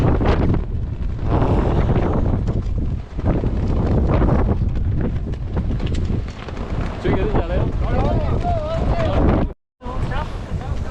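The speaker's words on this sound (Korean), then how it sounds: "가지산에 오늘 바람이 엄청나게 불고 있습니다" Strong wind roars across the microphone on Gajisan mountain, loud, buffeting and continuous, while someone talks over it for most of the stretch.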